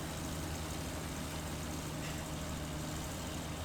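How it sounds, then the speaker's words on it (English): A four-wheel-drive tractor engine in Farming Simulator 17 drives out of water, giving a steady, unbroken engine drone with a low hum throughout. "if you have a tractor with enough horsepower, and of course I've got 4-wheel drive on and everything else, you can just drive right out"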